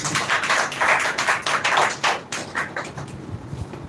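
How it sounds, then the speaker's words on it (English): Applause from an audience after a student's speech on the status of women at a semi-final speaking contest, a dense run of claps for about two seconds that thins into scattered claps and fades. "Once again, clap for her."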